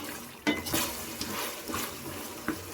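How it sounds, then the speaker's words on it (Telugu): Chicken frying in a pan over a high flame, a soft continuous sizzle broken by a few sharp clinks and scrapes as it is stirred, close up with no talking. "మంట హై ఫ్లేమ్లో పెట్టుకొని ఫ్రై చేసుకుంటూనే ఉండాలి."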